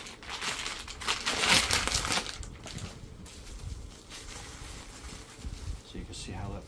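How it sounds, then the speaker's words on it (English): Foam packaging being ripped open with a Leatherman, heard as close crinkling and tearing rustles that peak early and then taper into quieter plastic handling, with someone talking over it. "open up my handy dandy Leatherman, and then just rip the corner off, and then we'll get that opened and expanded."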